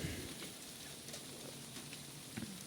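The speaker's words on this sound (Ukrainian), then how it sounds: "іде дощ" Evening rain falling outdoors near beehives, a faint, steady patter of drops with a few slightly louder taps, no talk.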